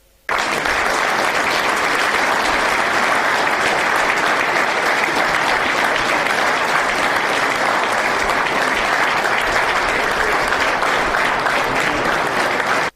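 Sustained, loud applause at a Burkinabè trade union meeting honoring late members, dense crowd clapping that begins abruptly and stays even and unbroken for about thirteen seconds.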